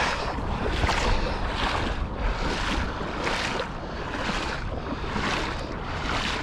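Floodwater deep enough to reach the knees flowing fast during a mountain-bike ride, a loud continuous rushing roar with rhythmic surges and some wind buffeting the microphone, with no talking.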